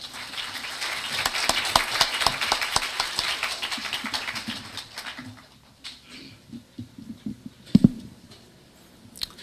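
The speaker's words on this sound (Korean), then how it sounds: "환영의 뜨거운 박수 부탁드립니다." An audience at a university lecture claps to welcome a speaker to the stage, a sustained round of applause that fades out midway, followed by scattered quiet handling sounds and a couple of sharp knocks.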